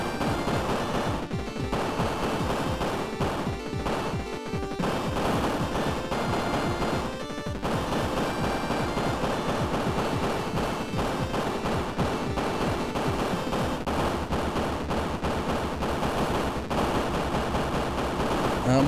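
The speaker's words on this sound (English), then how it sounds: "Green guys shoot bullets." Rapid bursts of enemy gunfire from green enemies in the shooter game Reverie, sustained and loud through the stretch, layered over dense game music and effects with a few brief gaps.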